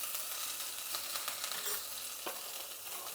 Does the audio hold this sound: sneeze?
no